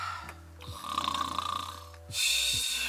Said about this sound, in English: the loud snores